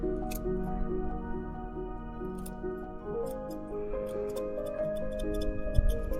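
Scissors snip through the mane of a Fjord horse in a series of short, close cuts, with quiet ambient noise in the background.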